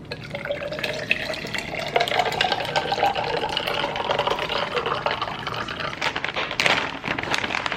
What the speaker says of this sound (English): first off, we're adding some ice, coconut water